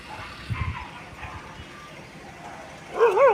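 A dog at a rural house during rain gives a few quick barks early on, then a high, whining yelp near the end, over a quiet, damp background.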